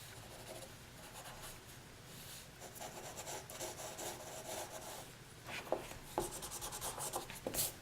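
Pencil rubbing and shading across drawing paper while sketching a dog, a steady close dry scratching rasp with a few sharper strokes toward the end, no voices.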